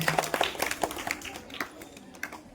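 Scattered clapping from a small crowd at a school Independence Day celebration, honoring a donor, loose uneven claps over about two seconds that thin out toward the end, with faint background voices.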